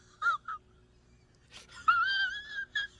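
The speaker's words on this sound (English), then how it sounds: "It's a pink bird." A large pink bird calls in a few short honking, wheezy cries followed by a longer drawn-out wail, close and clear with quiet background.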